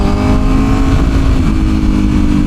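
A 2025 Honda CBR 1000RR-R Fireblade motorcycle engine pulls hard under acceleration in traffic, a loud, close, steady high-revving drone with rising harmonics and no talk.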